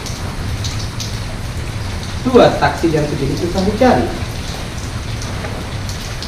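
Rain falls with a steady, close hiss during a motorcycle ride on city streets, continuous beneath someone talking in the middle of it.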